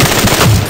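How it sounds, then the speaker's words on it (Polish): Automatic gunfire from a Medal of Honor Warfighter shooter session, a short loud burst of rounds hammered into a wall at close range, with no talk over it. "Nawalamy w ścianę."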